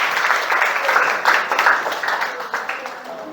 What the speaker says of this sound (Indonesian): Kasih tepuk tangan buat Deva.